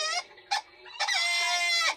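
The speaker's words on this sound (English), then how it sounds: "The chickens didn't like it." Chickens in a farm hen house cluck and squawk in agitated bursts, several short calls followed by a longer, continuous stretch of loud, close clucking with no talk.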